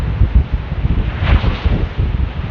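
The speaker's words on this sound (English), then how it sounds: "So it is windy, really windy" Strong gusting wind at a Jersey Shore beach buffets the microphone, a loud, rumbling, irregular roar with rustling undertones and no voices.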